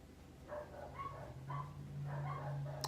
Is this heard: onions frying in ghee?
no